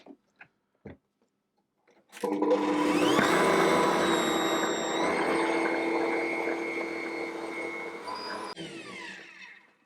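An Ankarsrum stand mixer whirring steadily as it blends oil and sugar, a loud sustained motor hum with shifting tone, preceded by a few brief knocks and easing off toward the end.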